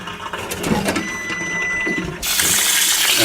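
Hot water poured from a cooking pot of boiled eggs into a kitchen sink, a loud rushing splash that swells into a broad hiss partway through, with faint clinks of the pot.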